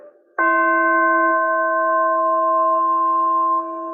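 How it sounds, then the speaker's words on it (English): A single orchestral chime, a suspended metal tube, struck once, ringing with clear bright overtones and a long, steady sustain that barely fades; no other sounds. "Chimes are metal tubes that are suspended on a rack."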